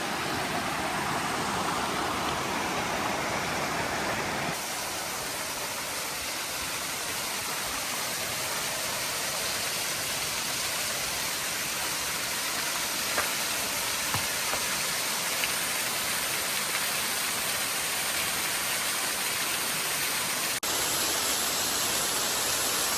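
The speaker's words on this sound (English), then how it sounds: "Pretty nice little waterfalls here." Small waterfalls beside the Appalachian Trail give a continuous broad rush of falling water. The roar is close, steady and loud, with slight shifts in tone and no voices.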